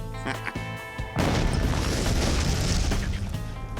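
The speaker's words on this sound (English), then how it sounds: "The high-speed explosives, like the plastic explosives, C4, etc., those tend to be really snappy." C4 plastic explosive detonates with a sudden loud snappy boom, followed by a sustained roaring rumble of debris and blast noise.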